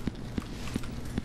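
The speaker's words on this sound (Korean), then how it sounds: "발소리다" Heavy, evenly spaced thuds of a chasing monster's footsteps in the horror game The Hall, four steady steps over a dull, noisy background.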